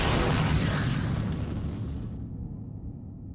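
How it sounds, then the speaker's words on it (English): An explosion sound effect for the Big Bang plays in presented media, a broad rumbling roar that opens loud and slowly fades over a few seconds, with no talk over it. "Everything started with the Big Bang."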